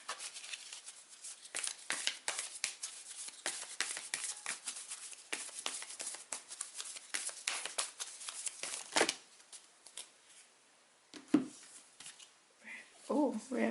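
Oracle cards are handled and shuffled up close in a rapid papery riffle for several seconds, then slower shuffling with a few handling sounds, and a voice speaks toward the end.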